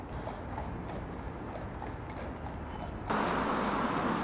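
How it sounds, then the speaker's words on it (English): Police horses walk with a steady clip-clop of hooves, fairly close and moderately loud, over a background of outdoor noise that grows louder and brighter near the end. "Get the police horses."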